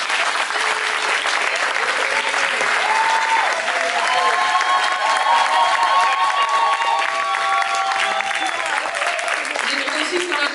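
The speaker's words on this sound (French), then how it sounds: "donc j'aimerais bien qu'on les applaudisse." Wedding guests break into loud, sustained applause, a dense continuous clapping from a close crowd with cheering and voices mixed in throughout.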